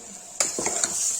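A spoon stirs a Kashmiri turnip dish frying in a pan, close scraping strokes over a constant bright sizzle, a few quick stirring clicks in a short burst.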